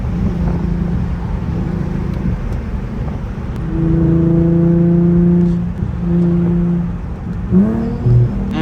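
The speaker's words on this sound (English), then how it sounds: "That downshift was nasty" Infiniti G37 with a VQ V6 and a single-exit ISR exhaust revs hard through a downshift while driving, the loud engine note rising and falling in harmonic sweeps, ending with a short sharp blip and crackle.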